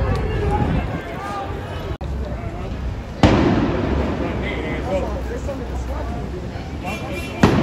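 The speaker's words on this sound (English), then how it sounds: "There they go, shooting innocent people with tear gas." Tear gas canisters fired at protesters during a street protest in San Diego: a sharp pop and a louder nearby bang stand out over constant crowd noise, with people talking and shouting throughout.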